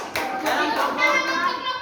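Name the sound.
children clapping for group 1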